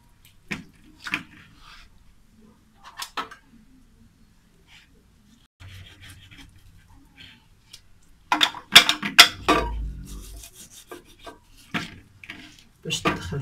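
Meat rubbed by hand with spices in a bowl, soft squelching and rubbing sounds that come in scattered bursts, faint at first and then louder and busier near the end, with light clinks of the dish.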